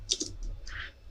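Soft keystroke clicks from typing on a computer keyboard: a quick cluster of light taps, a short pause, then a few more, fairly close and quiet with no talking.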